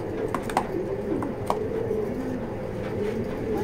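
A female racing pigeon coos in low, repeated throaty rolls, close and clear, with soft wingbeats and small scuffling clicks in between and no talk.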